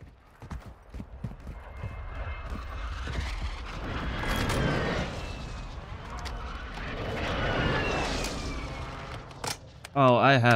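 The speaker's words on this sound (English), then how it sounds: "gunfire behind me" Bursts of video game gunfire in DMZ crackle and boom over a rumbling background, with a brief loud voice at the very end.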